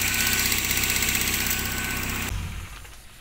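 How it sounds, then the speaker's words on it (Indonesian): An old Toyota Soluna ex-taxi idles with a steady, close, even mechanical drone for about two seconds, then the engine is switched off and the sound drops away abruptly to quiet. "untuk suara mesin normal seperti sedia kala"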